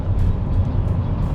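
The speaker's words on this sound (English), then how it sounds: "I'm putting the foot fully on the accelerator" Zeekr 001 electric car accelerating hard on a wet track, a steady close low drone of motor and tyre roar at constant loudness with no speech.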